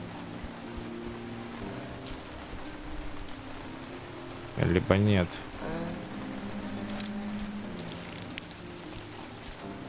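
Rain falls steadily in the farming video game We Harvest Shadows, a constant soft patter across the whole stretch, briefly interrupted by a short burst of voice and a few clicks in the middle.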